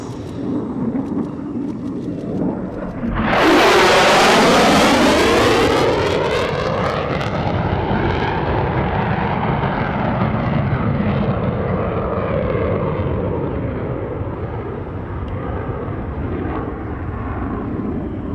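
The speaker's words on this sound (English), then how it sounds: "the F-35 demonstration team as it comes through with a high-speed pass" F-35A Lightning II jet roaring through a high-speed pass at an air show in New York, a sudden loud rising blast that peaks and then sweeps down into a long fading rumble.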